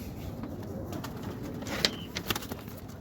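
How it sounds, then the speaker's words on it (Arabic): A Pakistani pigeon coos softly in a few low notes against a steady background hiss, with brief sharper clicks and knocks near the end. "انا صورت فرد حمام. ده باكستاني اهو"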